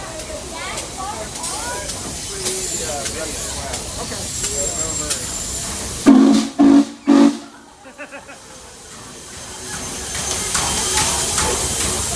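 N&W 611 steam locomotive sounding its whistle in a few loud, sustained blasts nearby, with steam hiss and people talking around it before and after.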